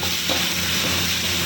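Water splashed into a frying peanut mixture, giving a continuous loud sizzle and hiss as it is stirred, close and steady with no talking.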